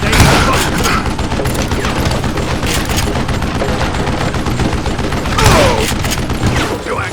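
Loud, dense gunfire in the Western shooter Call of Juarez: Gunslinger, with overlapping shots and a sharper burst near the middle over a constant din of battle.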